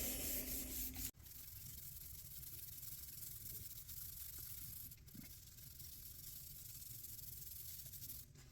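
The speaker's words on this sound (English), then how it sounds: "And then you're just going to rub that handle down." A damp cloth rubs steadily over a cork handle being restored, a continuous close scrubbing hiss with a brief pause near the start and another midway, no voices.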